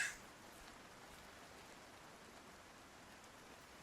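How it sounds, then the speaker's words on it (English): Steady rain falling in the video game Project Zomboid, a soft even hiss of drops with no other sounds and no talk. "standing in the rain isn't really going to do anything, is it?"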